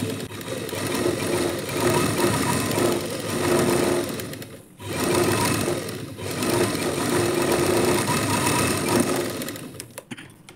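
Domestic sewing machine running a steady stitch on a lining blouse, a continuous mechanical whir in two long runs broken by a brief pause near the middle, close and fairly loud with no talk.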